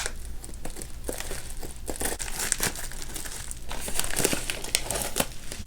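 Scissors cutting open a crinkly plastic subscription beauty bag, a close, continuous rustle and crinkle with sharp snips throughout and no talking.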